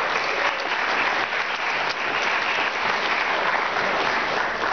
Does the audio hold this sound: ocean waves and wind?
no